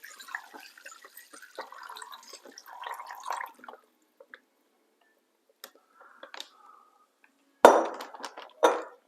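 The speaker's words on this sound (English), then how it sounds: "So in goes the marinade." A maple and Mountain Dew marinade is poured into a bag holding a spatchcocked chicken inside an outer container, giving scattered close drips, trickles and small clinks with brief quiet gaps and a louder splash near the end.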